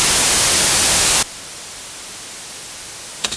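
A Radial active reamp box's noise floor: loud broadband hiss cuts abruptly to a much quieter steady hiss, with a couple of faint clicks near the end.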